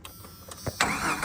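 A Jeep's engine cranks and catches, a brief quiet lead-in giving way to a sudden loud, broadband rumble that holds steady near the microphone.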